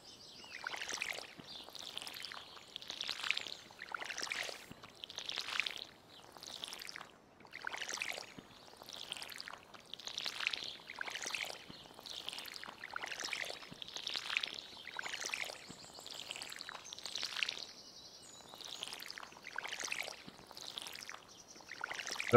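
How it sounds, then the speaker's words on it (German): Crops are watered with a watering can in the farming video game Stardew Valley: a steady series of about eighteen soft, evenly spaced splashing pours, quiet and alone. "Und nur noch gießen."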